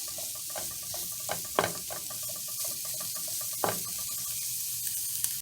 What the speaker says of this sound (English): I'm going to go ahead and add my onions to one side of the pan. And we can start to saute them.